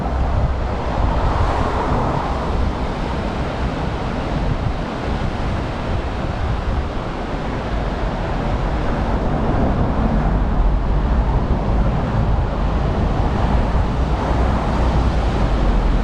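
Ocean surf rolls steadily onto Makapuu Beach in Hawaii, a continuous broad wash of breaking waves with wind noise buffeting the microphone throughout, no voices.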